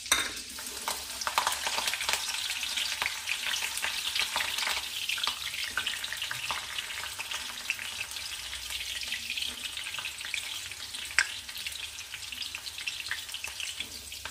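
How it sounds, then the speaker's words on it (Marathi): Green chillies fry in hot oil in a pan, giving a steady, close crackling sizzle with scattered pops and occasional stirring scrapes, with no talking. "हिरवी मिरची तळून घेऊ"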